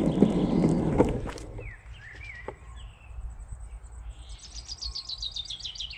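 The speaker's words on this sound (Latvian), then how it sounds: "Tik ļoti skaļi putni." Rustling and thumping footsteps fade out, leaving a chorus of many loud, high, repeated bird chirps and trills ringing out across an open space.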